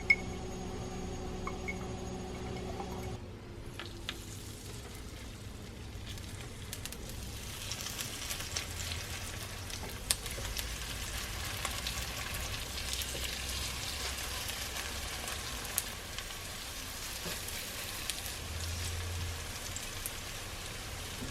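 Pumpkin pancakes fry in olive oil in a pan, giving a steady, close crackling sizzle that fills the whole stretch after a brief quieter start with a faint tonal hum, with no talking.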